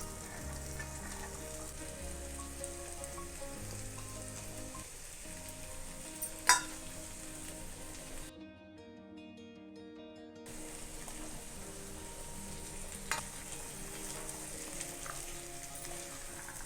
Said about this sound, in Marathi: हा मसाला तेलामध्ये 2 मिनिटं चांगला परतून घ्यायचा आहे।